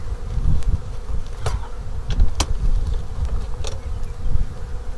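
Bees buzz steadily around a pair of open beehives, a dense close drone with individual insects zipping past the microphone now and then.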